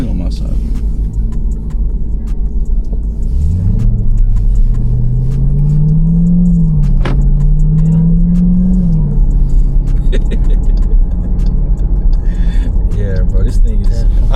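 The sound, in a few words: Jeep Trackhawk accelerating from inside the cabin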